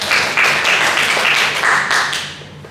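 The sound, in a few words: classroom applause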